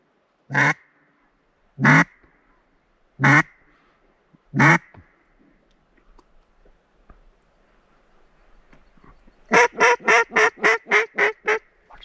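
A mallard duck quacks near a duck blind, close and loud. Four single quacks come spaced apart, then a quick run of about eight rapid quacks follows.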